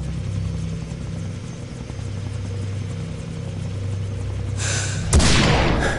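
Helicopter in the video game Far Cry 3: a steady low rotor drone runs throughout, growing fuller and louder near the end, where a sharp broadband burst hits and heavy rumbling follows.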